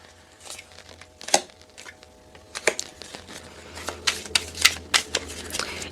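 Close, crisp riffling and flicking of a tarot deck being shuffled, irregular bursts that grow busier toward the end, with no talking.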